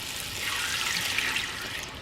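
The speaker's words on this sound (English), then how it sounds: "I'm going to add water now." Water pours steadily into a roast beef pan seasoned with beef bouillon and spices to make gravy, a continuous close splashing with no talking.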